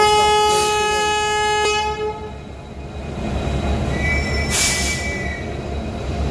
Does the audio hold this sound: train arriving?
yes